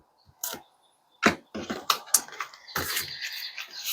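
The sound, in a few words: shuffling oracle cards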